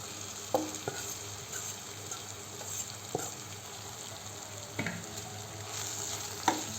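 A grated tender bamboo shoot mixture sizzles steadily in a pan, broken by several sharp scraping stirs of the spoon against the metal.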